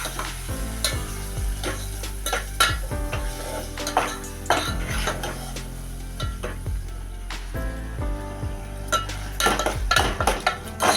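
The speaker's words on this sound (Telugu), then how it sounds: "దీన్ని కలపాలి బాగా." A spoon stirs mutton curry with ridge gourd in a pan, sizzling steadily underneath while the metal scrapes and clinks against the pan in repeated close, loud strokes.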